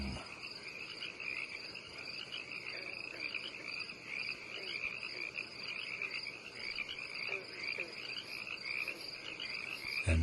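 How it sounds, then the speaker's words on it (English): Frogs croak continuously through an open window at night, a dense, steady chorus with insects chirping high above, heard alone without talking. "Let's listen to frogs for a while."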